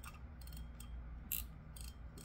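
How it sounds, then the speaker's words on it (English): Drag on a Daiwa BG 4000 spinning fishing reel clicking in short, quick bursts of fine ratcheting ticks, faint and close, with a low hum underneath. "Let's hear the drag on the BG4000."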